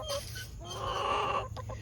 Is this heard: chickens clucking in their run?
yes